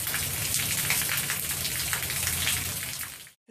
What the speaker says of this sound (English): I'm gonna leave you guys with the sound of the rain.